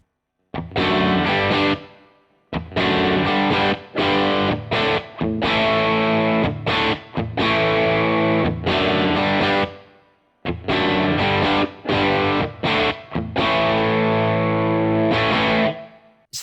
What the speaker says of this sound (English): And here's a drive sound from the 2-Rock.